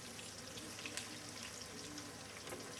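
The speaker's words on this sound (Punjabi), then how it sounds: "ਇਹ ਹੈਗੇ ਆਪਾਂ ਕਰ ਰਹੇ ਹਾਂ ਫਰਾਈ" Bitter gourd slices fry in a pan with a soft, steady sizzle, faint and close, with no talking over it.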